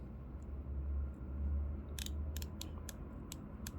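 The spool tension knob of a Kastking Kestrel Elite BFS baitcasting reel clicks as it turns, a run of sharp, quiet, evenly spaced ticks standing alone over a soft background hum.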